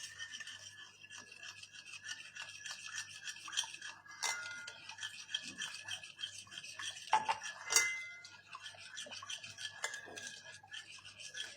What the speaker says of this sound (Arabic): واحد البيضه صغيره تكون بدرجه حراره المطبخ، ونخلطها